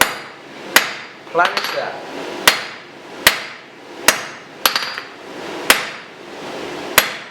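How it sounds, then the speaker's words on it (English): A hammer with a round die forges a taper on a hot steel bar, landing about nine sharp, ringing blows at uneven intervals, close and loud, with a brief spoken remark between strikes. "making sure the hammer is tilted"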